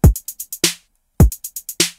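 Five evenly spaced synthesized notes squeezed into a single beat in FL Studio, each group of quick plucked tones ending on a stronger hit, with the pattern played twice, crisp and close.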